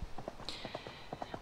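Horse hooves clip-clop in a steady riding gait in the Horse World 3D video game, a quick, even run of light, close thuds repeating with no voices over them.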